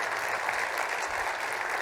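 Steady audience applause at a data community summit keynote, a dense wash of clapping filling the hall at even loudness throughout, with no voices over it.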